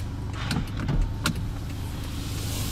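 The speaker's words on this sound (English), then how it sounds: "All 4 windows in this car fully automatic, in both direction, up and down, one touch." Power windows on a 2015 Toyota Land Cruiser Prado whir as they travel, a steady motor hum with a few faint clicks, heard close up inside the vehicle with no talking.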